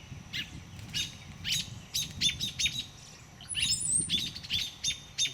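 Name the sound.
birds chirping in a nest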